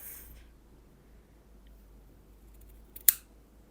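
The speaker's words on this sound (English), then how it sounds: "And then I will cut it in half." Scissors cut a length of knitting yarn in half with a single sharp snip near the end, after a quiet pause, in an otherwise hushed space.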